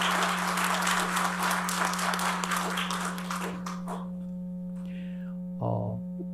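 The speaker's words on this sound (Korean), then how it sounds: "우리 귀한 찬양한 우리 시온 성가대 위에 귀한 박수를 좀 한번 우리 힘차게" A church congregation applauds the choir during a Sunday service, with loud, dense clapping for about four seconds that then dies away, over a steady electronic hum, followed by a few small taps.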